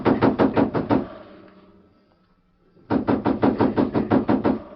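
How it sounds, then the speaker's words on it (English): Two bursts of rapid, sharp knocking on a door, about six raps each, loud and close, separated by a quiet pause. "someone knocked sharply on the door"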